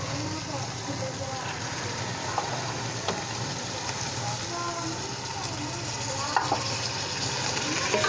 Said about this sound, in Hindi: अच्छी तरह से चम्मच हिलाएं।